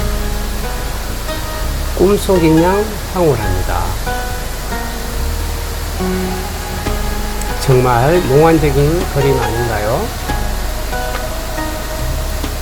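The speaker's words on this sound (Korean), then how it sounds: "낙차 28m의 벨리키 폭포입니다" The 28 m Veliki waterfall at Plitvice, Croatia, fills the scene with a steady roar of rushing, falling water, with a voice speaking over it at intervals.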